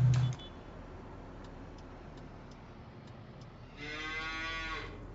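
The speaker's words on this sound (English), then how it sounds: "I hear you, cow. Moo." A cow on a farm in the Farming Simulator 22 video game gives a drawn-out moo near the end, over a faint steady ticking, with a short thump at the start and no talking.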